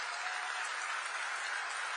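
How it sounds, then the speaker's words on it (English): Dense, steady applause from a large audience at the Kennedy Center during the FIFA World Cup Draw, greeting President Trump, filling the hall continuously without speech. "Please, a big round of applause for the President of the United States of America"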